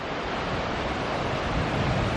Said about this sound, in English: you can see the waves coming in